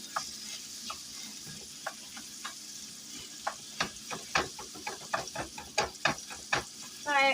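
Ground pork browns in a pan, with a low sizzle under irregular scraping strokes of a utensil that grow busier and louder toward the end, close up and without talk.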